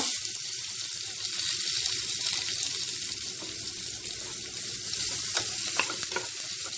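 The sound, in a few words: stirring grated coconut roasting with cashews in a pan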